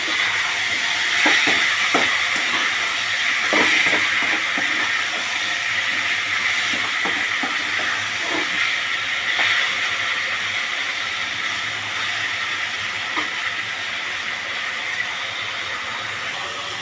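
A steady, loud hissing steam whistle from a pressure cooker cooking lentils for sambar runs continuously, with faint clinks and kitchen noise underneath.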